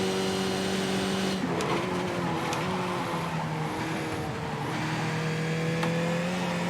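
Race car engine in iRacing, a Skip Barber car at Imola, droning steadily at high revs throughout with shifting pitch as the throttle is held and gear changes occur.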